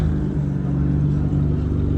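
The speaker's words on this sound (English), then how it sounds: "Got that Defender V8" A Land Rover Defender V8 holds a steady low engine drone on a London street, a deep rumble with a faint rising rev running through the whole stretch and no pauses.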